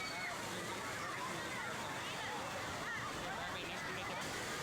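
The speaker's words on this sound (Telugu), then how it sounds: "ఇక్కడ నీళ్ళైతే ఫ్లో చాలా ఫాస్ట్ గా పోతున్నాయి" Fast-flowing water rushes at a waterfall stream near a temple, a dense, constant roar with sloshing close by, while people's voices murmur faintly underneath.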